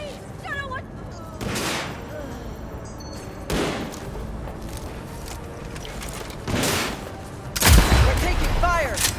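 Gunfire in the video game Cyberpunk 2077 comes in several loud, sharp bursts spaced a couple of seconds apart, the final volley the heaviest, with quieter mechanical noise between them.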